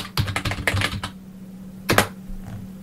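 Keys clatter on a computer keyboard running a CP/M system, a quick burst of about ten crisp strokes, a pause, then two more close taps, with no voice.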